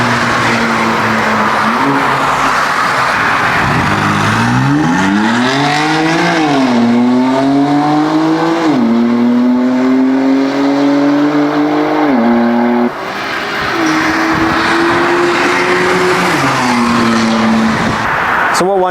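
BMW M4 cars rev hard during a launch control attempt, their engines repeatedly climbing in pitch and dropping back, loud and close, with a raspy roar throughout.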